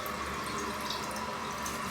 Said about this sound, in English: See how now it's barely trickling? Now it's wide open.